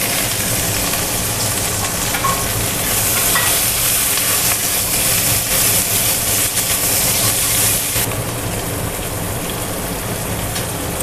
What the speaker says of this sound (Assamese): কেৰাহীত মই আগতে পনীৰ ভজাতে কেৰাহীতে বহাই দিছোঁ। ইয়াতে মই এতিয়া পিঁয়াজখিনি দি দিলোঁ।